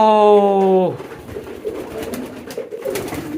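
A Damascene pigeon gives one close, clear, drawn-out coo with a rich tonal quality, then breaks off into softer rustling and faint background noise.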